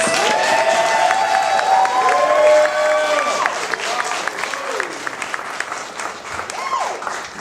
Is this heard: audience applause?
yes